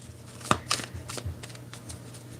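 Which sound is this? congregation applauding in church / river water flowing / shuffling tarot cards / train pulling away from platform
shuffling tarot cards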